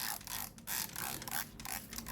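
A spray bottle spritzes water into a corner of a tarantula enclosure in a quick run of hissy bursts, about four close pumps in a row with brief gaps, near and fairly loud.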